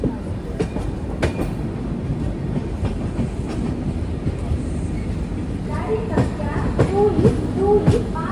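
A train standing at the Bhubaneswar railway station platform during a five-minute stop on the Vivek Express, with continuous low rumble, scattered clanks and knocks, and a platform announcement and nearby voices rising toward the end.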